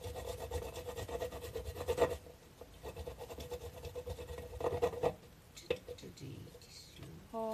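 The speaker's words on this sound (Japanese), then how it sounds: "生姜をおろせました。" Ginger scraped on a grater in rapid rasping strokes, close and moderately loud, coming in bursts with brief pauses, while people talk softly alongside.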